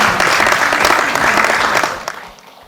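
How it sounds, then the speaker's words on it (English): A workshop audience applauds a newly seated panel, a dense, loud wash of clapping that holds steady for about two seconds before fading away. "Can you join me to give them another hand of applause?"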